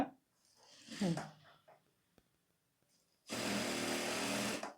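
A sewing machine stitching a blouse starts after a spoken stretch and runs as one steady, fairly loud mechanical whir for about a second and a half before stopping.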